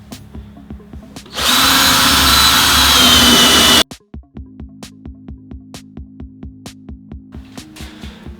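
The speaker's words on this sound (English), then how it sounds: "The first thing you need to do is drill some pilot holes where you want these screws to go" Power drill boring pilot holes into a wooden worktop: a loud burst of high-speed drilling for about two seconds, then a sharp stop followed by rhythmic clicking and a lower whirring hum, close and with no talk.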